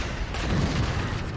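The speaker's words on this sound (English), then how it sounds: "Grenade out!" A grenade blast in the first-person shooter Clive Barker's Jericho, heard as a dense, sustained low boom that fills the whole short moment.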